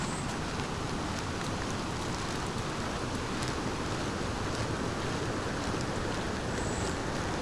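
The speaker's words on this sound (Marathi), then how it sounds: "पाण्याचा आवाज बघा, इकडून मोठ्याने आवाज येतो," A rain-swollen stream in the Konkan monsoon rushes loudly and steadily, a dense unbroken roar of water close by with no voices.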